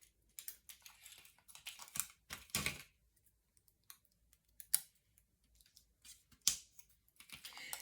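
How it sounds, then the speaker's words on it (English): Non-stick scissors snip through pop dots, cutting them in half in a craft setting, giving a series of sharp, close clicks and short cuts spaced irregularly with quiet gaps between. "I'm going to use some pop dots, my trusty non-stick scissors to cut some of the dots in half"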